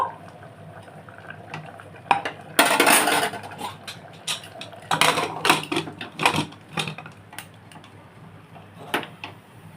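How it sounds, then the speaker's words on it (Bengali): A metal wok being set down in a home kitchen while making Punjabi-style dal makhani, heard as clattering cookware knocks and scrapes around 2.5–3 s and 5 s, with smaller clinks scattered after, fairly close and without talk. "রেখে এখানে কড়াই বসাচ্ছি"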